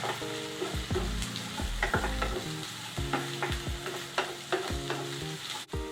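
Chopped green beans and carrots stir-fried for egg fried rice, with a steady sizzle, repeated utensil scrapes against the pan, and background music running throughout.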